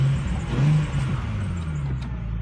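A 2005 Ford Mustang engine idles steadily after an oxygen sensor replacement, giving a continuous low rumble with a slight rise in revs partway through, fairly close and alone.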